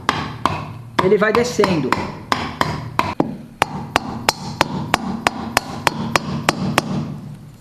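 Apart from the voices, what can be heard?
tapping engine part into place with wooden hammer handle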